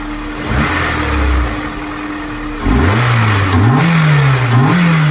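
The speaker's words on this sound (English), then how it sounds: "I'll give it a little bit of a rev." A Honda S2000 AP1 engine idles steadily, then is blipped twice, climbing to a loud rev and settling back down; close, clean engine sound with no talk.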